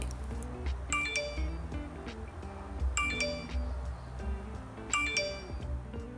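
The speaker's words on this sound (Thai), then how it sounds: "เสียงแจ้งเตือนแบบที่เราคุ้นเคยก็กลับมาแล้วเป็นเสียงแบบนี้" An iPhone notification alert on iOS 17.2.1 rings three times at even intervals, each a bright bell-like chime over a low background hum.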